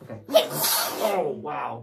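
One sharp, loud sneeze bursts out close to the microphone during a morning class gathering, and a person speaks briefly right after it.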